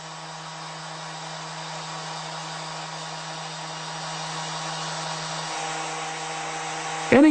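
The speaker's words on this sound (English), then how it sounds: "the sander is ready for a solo" A steady electric sander drones at constant pitch for several seconds, slowly growing a little louder, with a brief knock right at the end.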